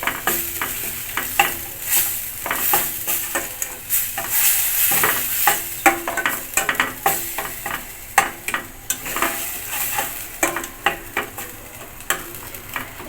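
Spiced masala with added tomato sauce being stirred in a pan for Bengali katla fish kalia, a busy run of scraping and sliding strokes over a steady sizzle, close and fairly loud, with no talking.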